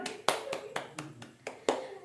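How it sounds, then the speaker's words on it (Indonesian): A classroom of students claps in a loose, sparse rhythm, roughly seven distinct close claps spread evenly across a couple of seconds, each sharp and separate rather than a continuous wash. "Tepuk tangan kepada 2 kelompok yang sudah menjawab dengan benar"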